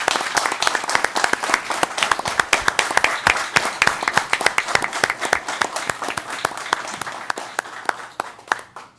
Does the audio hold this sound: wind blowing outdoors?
no